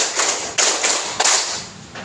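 Participants in a teacher-training clapping exercise clap in unison, giving about five crisp group claps with a short pause before the last, each ringing briefly in the room.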